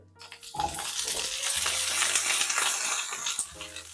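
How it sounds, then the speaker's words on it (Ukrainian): Hot oil crackles and sizzles steadily in a heated frying pan while zucchini caviar is being made, with clinking pan and utensil noises, fairly loud and close, and no talking. "На пательню розігріту олію."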